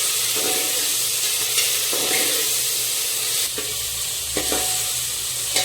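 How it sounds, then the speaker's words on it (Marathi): Ginger garlic paste sautéing in a pan for a Marathi matar pulao, giving a steady close sizzle throughout, broken by a few soft scraping stirs. "आता त्यामध्ये आपण जी आलं लसूण पेस्ट करून घेतली होती ती यामध्ये घालून घ्यायची आहे आणि 2 मिनिटं परतून घ्यायचे।"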